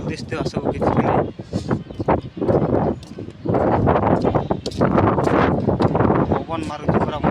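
Strong wind gusts outdoors buffet the microphone, producing a loud, continuous rushing roar that rises and falls while people talk over it.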